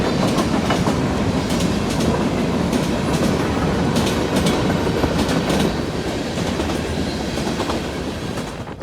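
Freight train with a string of gondolas rolling past close by, a steady loud rumble with rhythmic clickety-clack of wheels over rail joints throughout, easing slightly toward the end.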